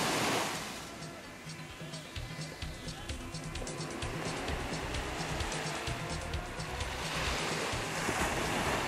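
Ocean surf washes steadily onto Kata beach in Phuket, Thailand, a broad continuous rush of waves with some wind noise, fairly loud throughout, and voices faintly present underneath.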